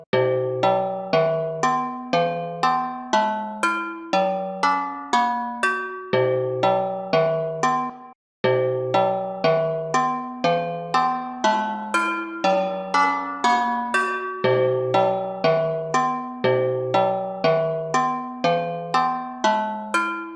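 A bright synthesized cowbell from a virtual instrument plugin plays a quick, repeating melodic pattern of short metallic hits, steady and loud, with a brief gap partway through.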